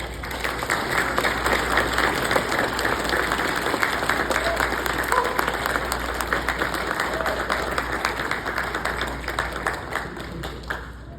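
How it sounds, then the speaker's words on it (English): An audience at the 2023 MicroCon conference gives a presenter a sustained round of applause, dense steady clapping from many people that fades slightly toward the end. "So if we could all give Phillip a rousing round of applause."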